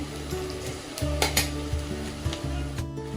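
Onions frying in oil for chicken biryani, a steady close sizzle with occasional spoon scrapes and stirring knocks against the pan, no talking.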